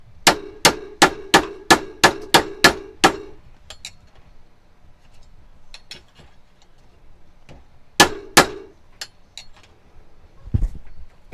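Metal hammer strikes on the bottom of a bud vase on a workbench: a fast run of about nine sharp, ringing clangs, then scattered lighter taps and a second pair of loud blows, close and clear with no talk.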